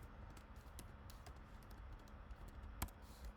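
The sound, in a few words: typing numbers on a computer keyboard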